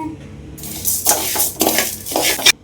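Chana dal, urad dal, pepper and cumin frying in a pan for a drumstick-leaf and curry-leaf idli powder, heard as several bursts of dry rattling and scraping as the mix is stirred close up.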